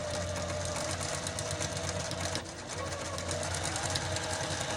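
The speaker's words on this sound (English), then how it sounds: "Just sew that all the way around." A sewing machine stitches a reversible fabric bowl cover in a steady, fast mechanical whir, close and continuous, with a brief slowdown midway and no talking.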